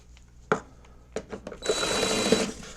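A small power driver removing a bolt on a Toro 277 snow blower, a couple of short whirring bursts followed by a longer sustained whine, close and fairly loud.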